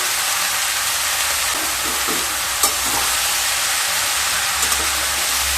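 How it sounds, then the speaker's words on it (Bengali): Bottle gourd pieces with salt are stirred in a pan over a constant broad hiss of frying, with a few soft scrapes and taps of the spoon standing out near the middle and end. "একটু নেড়ে নিচ্ছি।"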